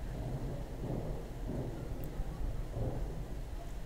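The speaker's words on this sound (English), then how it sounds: "Oh wow, now that is thunder." Low rolling rumble of thunder, distant and sustained, with a soft rain-like hiss over it.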